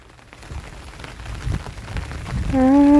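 Steady rain pattering on a surface, growing louder, with a sustained tonal hum entering near the end.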